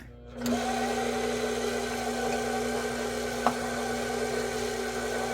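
Electric mixer running in first gear through butter pecan coconut pound cake batter as milk is worked in, a steady, close mechanical hum that starts abruptly and holds even, with one small knock partway through.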